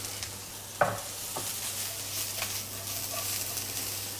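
Garlic shoots sauté in a very hot pan with a steady, hissing sizzle and a few clinks and scrapes of stirring, close and continuous, with no voices.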